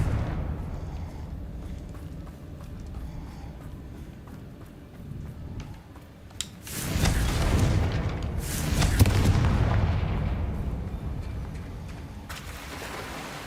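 Confringo blasting spells burst in Hogwarts Legacy, a couple of loud, broad explosions with rumbling tails rising out of busy game ambience of footsteps and clatter, the blasts landing in the second half.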